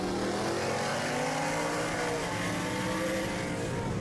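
Supercharged Whipple S650 Mustang racing, a loud sustained engine roar with steady harmonic drone and rising pitch as it accelerates hard, close and continuous without any talk.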